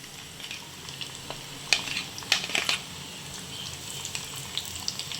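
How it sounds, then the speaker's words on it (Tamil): Onions fry in hot oil in a clay pot, a steady soft sizzle with occasional louder crackles and stirring scrapes, close by with no talking. "இப்போ எண்ணெய் கொதிச்சிச்சு, வெங்காயம் போடலாம்."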